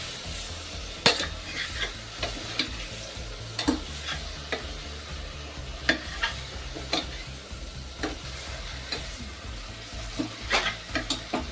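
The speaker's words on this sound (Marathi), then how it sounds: "भाजी टाकल्यानंतर मसाला आणि जे बाकीचे साहित्य जरा मिक्स होऊन द्यायचं." Hyacinth bean and potato vegetable stirred with masala in a frying pan, a continuous sizzle under repeated scraping and clinks of a spoon against the pan, close and fairly loud.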